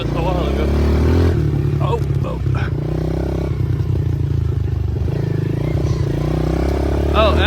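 A Honda 110 motorcycle rides a Quebec dirt trail with a loud, close engine drone that rises and falls with throttle, with rattles and clatter over bumps throughout.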